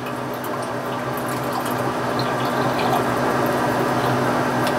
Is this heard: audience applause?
no